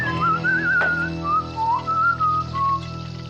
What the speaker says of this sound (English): here's the whistling that didn't get changed